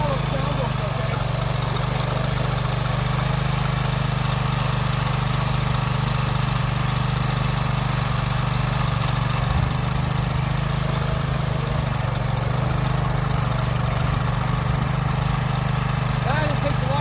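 A repaired, previously seized small engine on a garden tiller roars loud and steady while digging into garden ground, a constant rough drone throughout, with a voice partly under the noise.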